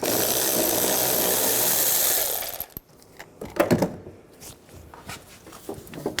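A power tool spins off the strut nut on a Chevy Traverse front strut assembly, a steady whirring buzz for about two and a half seconds, then stops and gives way to metallic clinks and handling noises.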